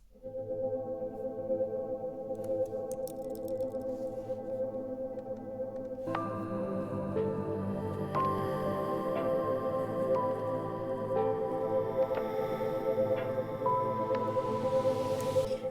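Shimmering, smeared guitar chords processed through a granular plugin with a grainy, textured wash; the tone shifts midway into a brighter, more layered shimmer that continues steadily to the end.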